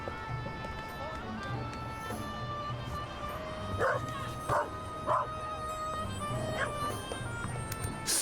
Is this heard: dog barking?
yes